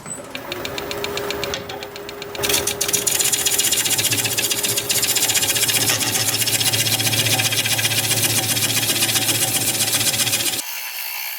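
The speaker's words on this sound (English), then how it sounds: "Let me put a fresh burr on my scraper and we'll scrape." A scraper working a turned maple bowl on a wood lathe gives a steady, loud rasping drone over the lathe's hum, starting after a short lead-in and running continuously until it cuts off near the end.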